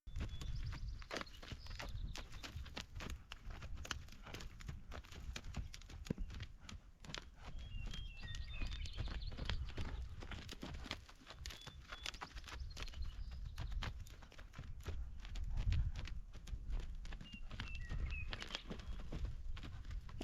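A horse walks on a circle in a riding arena, its hooves striking the ground in a steady, soft clip-clop rhythm over low background rumble, with no talking.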